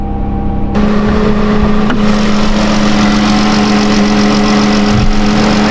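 A Chrysler Town and Country van's engine runs loud and close, holding a steady hum with a faint rise that hints at revving, with no talk over it.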